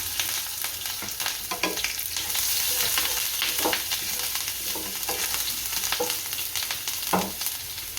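Chillies and asafoetida dropped into hot oil with cumin for tempering a Gujarati gathiya curry, a steady loud sizzle with crackling bursts and the occasional stir, with no talking.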